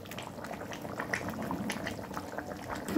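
Fish curry broth with potato and taro simmering in a pan, a soft steady bubbling and hissing, quiet and continuous throughout.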